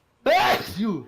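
One sharp, close sneeze bursts out, followed by a short breathy exhale and a brief voiced sound.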